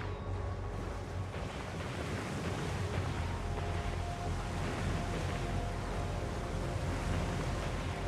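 Video game waves surging and crashing in a monster-filled river level, a dense continuous roar of water with wind-like rushing, steady and moderately loud throughout without speech.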